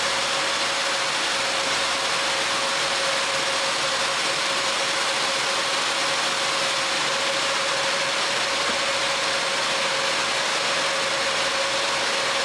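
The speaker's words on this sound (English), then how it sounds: "Okay, 4 fans are on. All 6 blowers are on." Four cooling fans and six blowers on a crypto mining rig with CMP 100 210 cards roar steadily as a continuous broadband whoosh with a faint constant hum, close and unchanging throughout.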